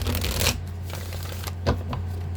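Cards of a Moonology oracle deck being shuffled, a dense papery riffle at the start and then lighter flicks and taps, close and fairly loud, with no talk.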